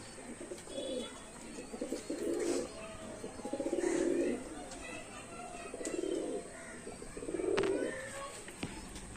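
Royal Teddy pigeons in a loft, a series of soft, low cooing calls repeating every couple of seconds, close by, with faint chirps and someone speaking quietly in the background.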